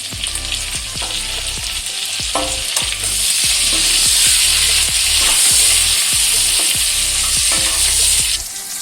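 Loud, close sizzle of pointed gourd frying in a pan, with a hissing crackle that swells midway, punctuated by repeated stirring knocks and scrapes.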